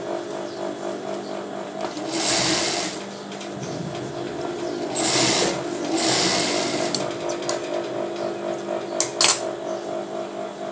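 Close, loud bursts from a tailoring sewing machine stitching bra fabric come in several runs with pauses between them, with light clicks and handling noises and no talking.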